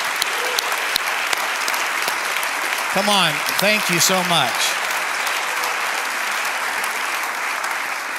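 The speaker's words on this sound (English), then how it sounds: "let's give all of you a great big hand clap." Sustained audience applause fills the space, dense and steady throughout, while someone briefly speaks over it partway through.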